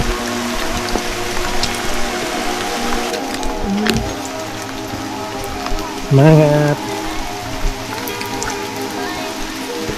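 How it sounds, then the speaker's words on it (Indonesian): Heavy rain at a misty mountain summit, Puncak Bhellis, pattering steadily on surfaces as a dense continuous hiss, while a voice speaks briefly and a short tonal sound cuts in near the middle. "Hujan guys, makin deras hujannya."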